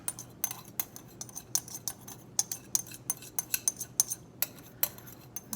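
Shrimp dropped and stirred into a salad bowl with utensils, a quiet run of light metallic clinks and taps scattered irregularly, close by with no talk.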